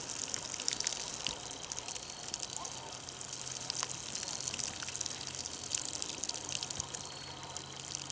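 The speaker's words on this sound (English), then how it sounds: "I'm gonna water these in." Water poured onto freshly planted seedlings in a newly built raised garden bed with added compost, a steady soft splashing and trickling gush running continuously at moderate level with no talking.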